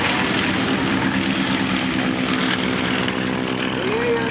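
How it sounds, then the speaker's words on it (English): A Stearman biplane takes off at a county airshow, its radial engine giving a loud, steady propeller roar with a rising tone, while a voice speaks over it. "That's probably Mike Michalski taking off in his Stearman."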